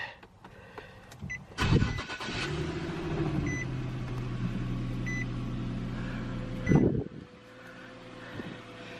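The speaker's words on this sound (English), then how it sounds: "Let's run the car" A Infiniti G37 engine cranks and catches, then idles steadily with a low hum after an oil and filter change; a second brief crank or rev surges near the end.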